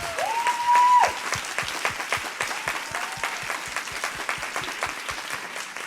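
An audience claps for a performer in rhythmic unison, steady evenly spaced beats continuing throughout, with a brief tone or whistle near the start.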